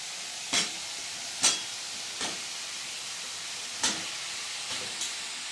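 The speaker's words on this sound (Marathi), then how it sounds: "आता मासे टाकू त्याच्यात आपण" Fish pieces dropped into a fried spice paste for a spicy fish curry, giving a continuous hiss of sizzling broken by five sharp bursts as pieces hit the pan or get turned.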